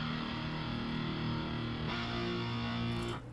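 A distorted power chord synth from the Flex plugin in FL Studio sustains steadily and loud, changing to a second chord partway through before cutting off near the end.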